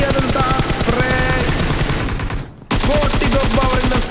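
Rapid automatic gunfire bursts in a BGMI esports semi-final, with loud, close shots in a steady spray, a brief pause, then another burst at the same pace.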